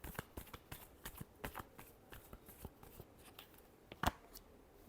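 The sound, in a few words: shuffling tarot cards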